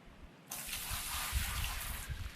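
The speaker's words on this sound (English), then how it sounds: "get another bucket of water in there ready to go." A bucket of water gushes into a sluice in the gold-mining video game Gold Rush, a steady rushing pour starting after a brief quiet moment and running continuously to the end.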